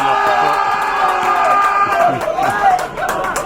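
Spectators cheer and shout in support of the Buderim Rebels at a men's division 2 field hockey final against Maroochydore, a loud continuous crowd roar with whoops rising and falling throughout.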